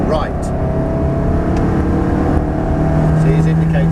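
A sports car engine pulls hard at full power on a track, a steady droning roar with rising harmonic tones throughout, while an instructor talks over it.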